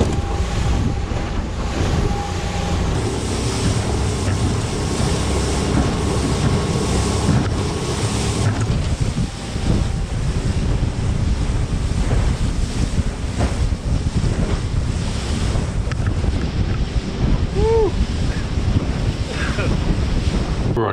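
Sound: strong wind and waves at the shore

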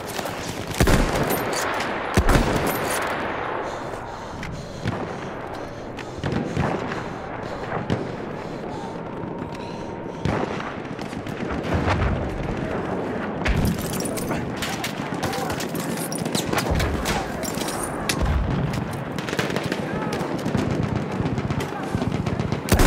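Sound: enemy machine gun fire in video game Battlefield 1

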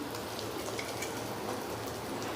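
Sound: asafoetida added to hot oil in tempering pan, sizzling

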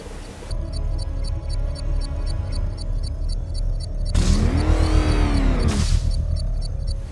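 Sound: Batmobile engine accelerating in video game Batman Arkham Knight

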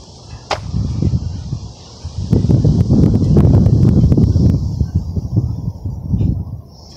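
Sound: wind blowing on a gusty afternoon

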